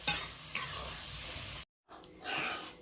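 Tamarind juice stirred into puli inji, a ginger curry, in a pan, with a steady scrape and sizzle that breaks off briefly before resuming.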